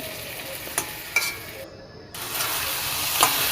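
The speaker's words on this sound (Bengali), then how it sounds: "মশলার মধ্যে আছে আর কি কাঁচা লঙ্কা জিরে ধনে হলুদ এসব দিয়ে আমি ভালো করে এখন ভেজে নেব" Spice paste of green chili, cumin, coriander, turmeric and ginger frying in a pan for curry gives a soft, steady sizzle with a few sharp stirring clicks, close and alone.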